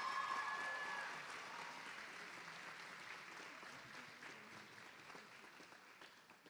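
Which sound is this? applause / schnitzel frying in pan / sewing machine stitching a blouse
applause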